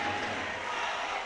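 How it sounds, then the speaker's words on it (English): Dense crowd roar from French and Romanian basketball fans chanting against each other at a women's EuroBasket game, a continuous, fairly loud wall of voices with no clear break. "French have brought a decent sized contingent with them, having a vocal battle with the Romanian fans"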